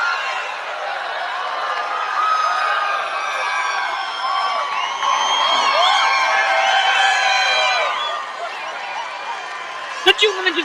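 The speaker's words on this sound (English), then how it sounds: "They're all cheering." Audience at a Donald Trump speech cheers and whoops in a sustained, lively roar with scattered laughter, fading out before a few sharp bumps at the end.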